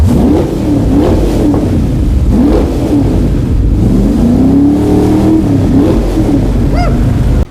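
A loud car engine revs hard and rises and falls in pitch, its roar echoing and reverberating as if in an enclosed tunnel.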